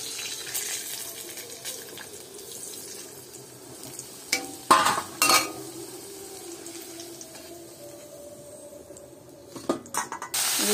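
Onion and garlic frying in a pan, cooked before mutton is added: a steady, soft sizzle with a few louder clatters and stirring scrapes near the middle and end, no voices.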